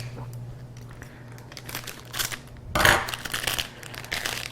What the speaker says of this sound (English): I'm going to need a pair of scissors to open that